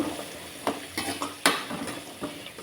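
Garlic and curry leaves fry in hot oil, giving a light, continuous sizzle broken by several clinks and scrapes of a spoon against the pan, close and clear with no talking.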